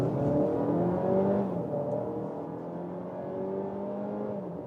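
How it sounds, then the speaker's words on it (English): A Volkswagen-group car's 1.5 TSI petrol engine accelerating, heard from inside the cabin: a moderate, smooth hum that rises in pitch through the gears, with shift dips and no talking. "Have the pure petrol engine sound."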